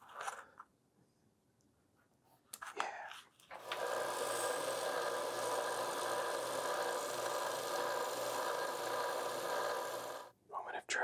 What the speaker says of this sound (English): That we'll finish that on the sander.